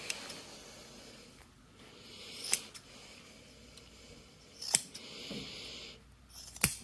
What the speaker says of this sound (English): we are now trimming off the collar, trimming off the corner and doing some little clips to each side.